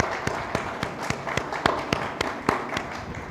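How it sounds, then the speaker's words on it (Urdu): A church congregation claps loudly during a Sunday service in a steady, evenly spaced rhythm of sharp claps, with faint voices underneath. "آئیے خداوند کو زوردار تالیوں میں جلال دیں۔"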